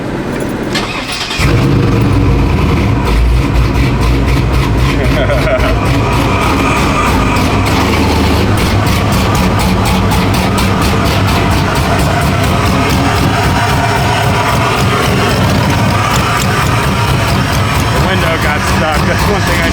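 LS-swapped OBS Ford truck with a V8, stage 2 BTR truck cam, headers and catless exhaust, cranks and fires up, then settles into a loud, choppy lopey idle, close and continuous.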